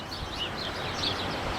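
Small birds, sparrows, chirp in quick, scattered bursts over a steady outdoor hiss, fairly faint and at a distance, in Armada Way, Plymouth.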